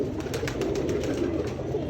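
Sialkoti bloodline breeder pigeons cooing together in a loft, a continuous low murmur of overlapping coos close at hand, with a few light taps and rustles and no speech.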